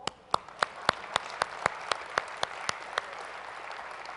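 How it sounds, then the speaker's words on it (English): Sharp, rhythmic clapping stands out over a softer spread of conference-audience applause, marking a steady beat that fades after about three seconds. "let's clap it up for these 11 people"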